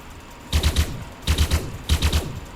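A pistol fires in the Elite Dangerous video game in three quick bursts of three sharp shots each, evenly spaced and punchy, heard up close with no talk.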